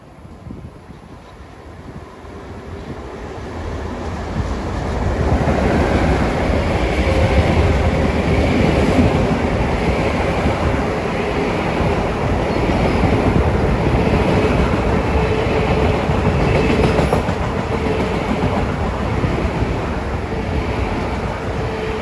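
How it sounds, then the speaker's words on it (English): A Long Island Rail Road commuter train from Babylon rolls into the station at rush hour, its steady rumble and rail noise building over the first few seconds, then holding loud and close without voices. "here comes train 139 from Babylon at 4:03"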